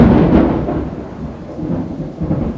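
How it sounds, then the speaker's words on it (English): Low, rolling thunder rumbles continuously through a heavy downpour, loudest at the start and then easing into a steady grumble under the hiss of pouring rain, with no voices. "That was thunder."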